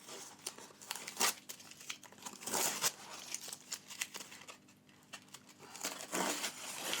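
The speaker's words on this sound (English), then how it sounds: "And let's take that tape off because that might inhibit it going in." Adhesive tape peeled off a foam core during a covering job, heard as repeated crinkly, tearing rips in uneven bursts, fairly close and moderately quiet, with no talking.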